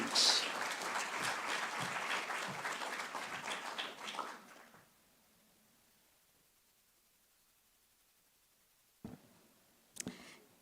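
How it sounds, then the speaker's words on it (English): Audience applause at an EdTech Mondays education forum welcomes Dr. Barbara Glover onto the stage, a steady wash of clapping lasting several seconds before fading out, followed by quiet and a couple of sharp isolated knocks. "With a very big round of applause, please help me welcome her up on stage."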